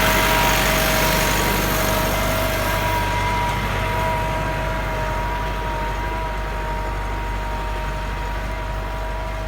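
A Massey Ferguson 385 tractor engine runs steadily at idle, a loud continuous diesel drone with a low throb and a faint high whine, heard alone with no talk.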